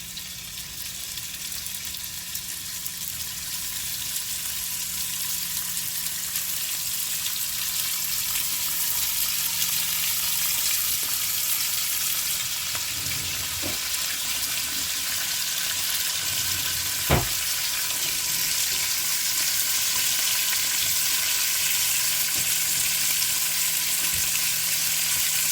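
Bacon sizzling in a pan with extra virgin olive oil, a steady close crackling hiss that runs throughout, with a couple of sharp clinks of a utensil partway through.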